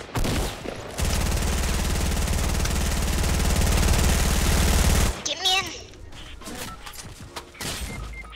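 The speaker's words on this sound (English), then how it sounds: "Oh no, his turret's gonna kill me." An automated turret in Fortnite: Battle Royale fires a loud, continuous rapid stream of shots for about four seconds. Then it cuts off, leaving scattered clatter and a raised voice.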